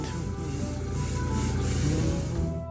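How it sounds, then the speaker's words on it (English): An airbrush spraying paint, a steady close hiss with a faint mechanical hum underneath, continuous throughout. "we spray from above with a light gray with the airbrush"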